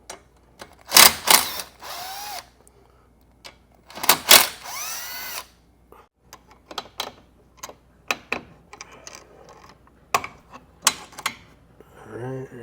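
Power tool and ratchet work loosening A/C line fittings on a 2024-25 Hyundai Santa Fe during condenser replacement: two longer bursts of driver whir near the start, then a run of short, sharp clicks and taps close by.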